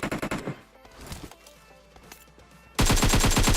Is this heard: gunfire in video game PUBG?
yes